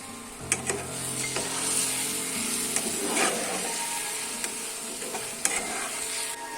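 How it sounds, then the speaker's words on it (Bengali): Fried potatoes stirred into hot spiced oil for a Bengali katla fish curry, an even close sizzle broken by spatula scrapes and clicks against the pan, no talking. "ভাজা আলু দিয়ে এখন আমি আরো নাড়িয়ে নেব।"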